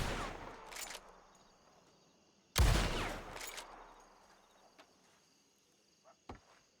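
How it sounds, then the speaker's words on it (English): Two loud gunshots from a powerful, cannon-like gun in the Western game WildRP, the first sharp and booming with a long decaying tail, followed by a few fainter distant pops. "I love the sound of this gun"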